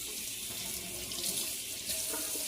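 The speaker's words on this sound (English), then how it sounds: "I'm going to rinse this off" Tap water runs steadily into a kitchen sink while something is rinsed off during cake baking, a continuous close hiss and splash with no talking.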